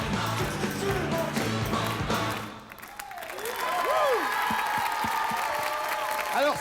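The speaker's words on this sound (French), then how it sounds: "Je voudrais qu'on les applaudisse plus fort que ça." Studio audience applauding during a French hidden-camera television show after a rock'n'roll performance, steady clapping that dips briefly then swells again, with a voice speaking over it.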